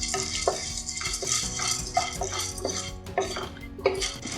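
Roasted gram (pottukadalai) dry-roasted in a pan, with close, busy rattling and scraping as the dry lentils are stirred against the metal, repeated clinks over a constant hiss.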